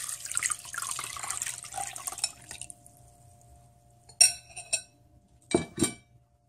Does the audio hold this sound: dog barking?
no